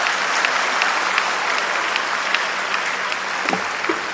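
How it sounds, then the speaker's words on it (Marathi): An audience at a public speech event in Baramati applauding, dense sustained clapping from a large crowd filling the whole span. "जोरात टाळ्या वाजवा"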